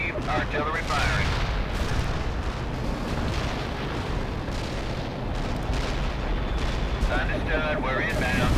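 Artillery barrages and shell explosions from the World in Conflict video game form a dense, continuous roar of booms and rumbling blasts, with radio-style voices briefly heard over the battle noise.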